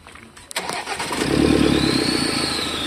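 A turbocharged car engine cranks briefly with a few clicks, then catches and settles into a steady, loud rumbling run close by.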